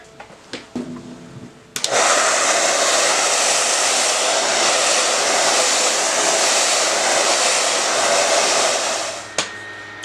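Hair dryer blowing on a beach-themed watercolor painting, switched on after a few handling clicks and running as a loud steady close roar for about eight seconds before cutting off.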